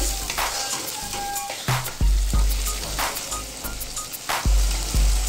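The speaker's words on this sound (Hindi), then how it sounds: "टमाटर पक रहे हैं" Tomatoes cooking down in a pan for beef karahi, a steady sizzle and frying hiss punctuated by several sharp stirring knocks against the pan.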